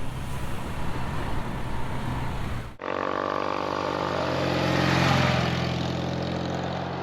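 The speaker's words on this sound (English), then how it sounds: "you definitely hear a reasonable amount of chitter chatter and the purr of the engine, and it's quite a pleasant intake purr." BMW R60/6 motorcycle engine running on a road test, a steady intake purr with some mechanical chatter under wind rush, continuous and fairly loud.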